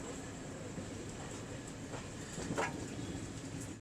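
Garib Rath Express passenger train running at night, a steady close rumble of wheels and carriage noise with faint rattles throughout, no talking.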